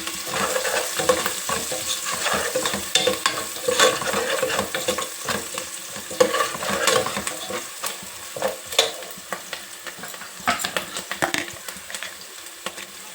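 Onion, ginger-garlic paste, green chillies, curry leaves and a half spoon of turmeric fry in a pan for an egg masala curry, with steady close sizzling broken by frequent stirring and scraping clicks throughout.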